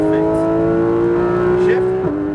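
A Porsche GT3 RS accelerates at full throttle on a Las Vegas racetrack, its engine note climbing in a loud, steady whine before a quick drop at an upshift, with an instructor talking over it.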